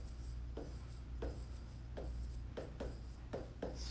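Handwriting on a screen, heard as a series of faint, quick scratchy strokes in an irregular rhythm over a quiet, humming background.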